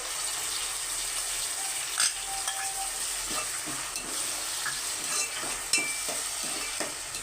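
Chopped tomatoes go into a mutton masala curry and fry in the pan, giving a soft, continuous sizzle with scattered clinks and scraping stirs from a spoon against the vessel.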